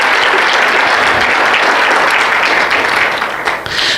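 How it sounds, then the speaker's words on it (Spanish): A church congregation breaks into sustained, loud applause, dense clapping filling the space evenly throughout and tapering slightly at the very end. "Si ese aplauso es para el Señor, dele más fuerte, porque es para el Señor."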